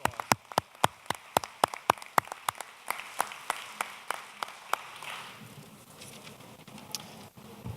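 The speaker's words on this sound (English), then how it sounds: "Let's give them a round of applause." Sparse applause for police officers at a county grants ceremony: a few dozen sharp, separate claps in a steady run, thinning out and fading into quiet room noise after about five seconds.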